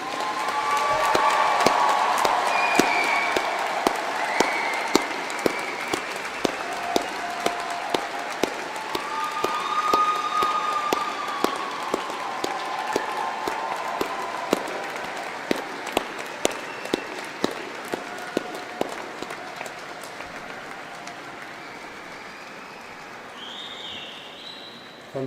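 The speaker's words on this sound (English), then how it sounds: "Shall we give them all another huge round of applause for their achievements?" Sustained applause from a large crowd honouring graduates at a Coventry University graduation ceremony, dense clapping running steadily for about twenty seconds before gradually thinning and fading out.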